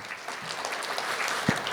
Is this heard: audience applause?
yes